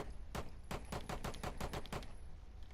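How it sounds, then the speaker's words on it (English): A single-fire pistol in the video game Rainbow Six Siege, fired about nine times in quick, slightly uneven succession. Each shot is a sharp, loud crack over a steady background hiss, with no talking. "This is a single firing pistol"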